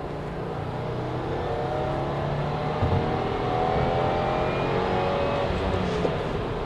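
A 2015 Subaru WRX Limited's engine winds up toward 6000 rpm on a busy road, a steady rising whir and drone heard from inside the car with no talking.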